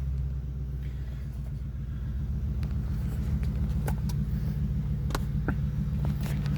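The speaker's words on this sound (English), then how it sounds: "Just a little bit of throaty sound there." Car engine idling through a throaty Magnaflow exhaust after startup, a steady close low rumble with a few faint clicks and rattles over it, no talking.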